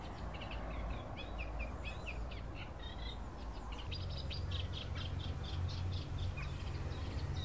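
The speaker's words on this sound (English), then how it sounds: "The Eurasian reed warbler lives here in the best of park." A Eurasian reed warbler sings in reeds of a wetland park beside a busy road, its quick chattering phrases repeating over a steady low rumble of traffic.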